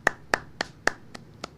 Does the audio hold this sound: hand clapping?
yes